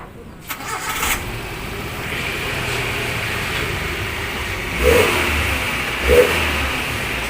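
Engine of a Futura car fitted with a large Srigala aftermarket exhaust, running at a steady rumbling idle with two brief revs toward the end, loud and close.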